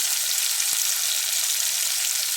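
Tomato and dried chili fry in a pan with chili powder, turmeric and salt, a steady close hiss of sizzling oil that continues unbroken, with a single faint tap near the start.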